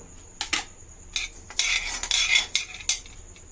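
Whole coriander seeds, cumin and cinnamon bark being lightly dry-fried in a pan for a prawn fry masala, with a metal spoon scraping and clinking against the pan in quick bursts, some loud, alone with no voices.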